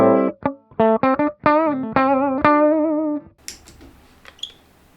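An electric guitar fed through distortion and chorus pedals into an interface plays a quick run of plucked, sustained notes, then trails into scratchy, noisy string sounds, close and clear.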